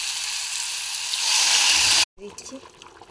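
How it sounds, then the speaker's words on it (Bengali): Hot water goes into a pan of frying cauliflower and tangra fish curry. The sizzle swells into a loud hissing rush for a couple of seconds, then cuts off, and a voice speaks over quieter bubbling. "আমরা একটু গরম জল দিয়ে দিচ্ছি"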